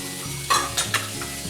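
A spoon stirs a pot of oatmeal with raisins and maple syrup, making a few short, close scraping and clinking strokes over a low background sizzle, with no talking.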